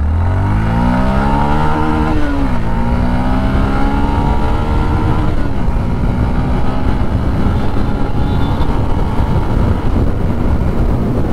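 A 2024 Yamaha FZS V4.0 motorcycle with an air-cooled two-valve engine revs hard in first gear, its loud engine note climbing in pitch, dipping at a shift, then droning on steadily up close.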